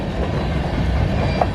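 A CN freight train of hopper cars rolls past close by in winter in Battle Creek, Michigan, a dense continuous rumble and rattle of wheels on rail with no pause.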